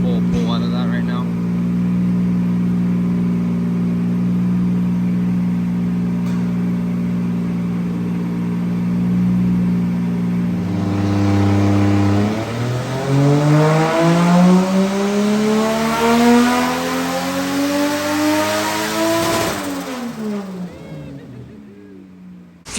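A Toyota 2JZ-GE VVT-i engine with a budget turbo in a Lexus GS300 on a dyno holds a steady drone, then climbs in a long rising pull to high revs before dropping off, loud and close.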